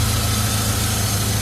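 A BMW E-series car engine with a leaking oil filter housing seal idles loudly and steadily up close, a continuous low rumbling drone with slight rough vibration and no voices.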